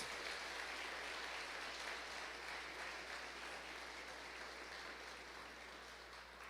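A church congregation claps for Jesus during a worship service, a continuous even wash of applause at moderate distance with a low steady hum beneath.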